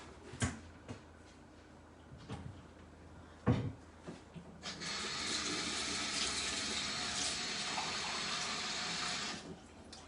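Water runs into a Thermomix TM6 bowl for about five seconds, a steady broadband rush preceded by a few clunks and knocks of handling; no one speaks.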